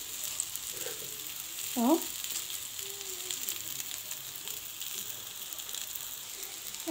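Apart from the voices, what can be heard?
chicken kofta sizzling while turned on the grill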